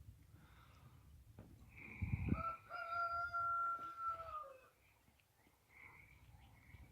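Chickens on a backyard flock cluck and crow, with one drawn-out rooster crow rising in the middle between softer scattered clucks; fairly quiet and close with no talking.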